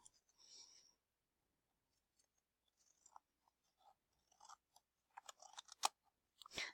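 Scissors snip a small paper tab off a sheet in a quiet room, giving a few faint, close, crisp cuts with soft rustling and brief pauses between them.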